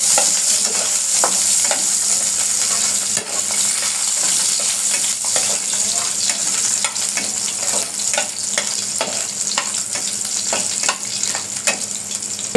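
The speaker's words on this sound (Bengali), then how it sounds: "রসুনটা ভাজা ভাজা হয়ে গেছে" Garlic fries in hot oil in a pan, giving a continuous close sizzle broken by frequent sharp crackles and the scraping clicks of stirring.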